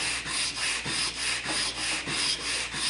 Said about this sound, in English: We're going to run that on the sanding stick to get it nice and flat and level.